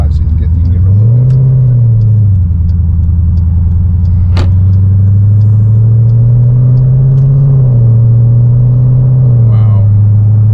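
A cammed Jeep SRT engine rumbles loudly and steadily from inside the cabin, rising in revs as it accelerates, with brief swells and dips along the way; people talk over the engine.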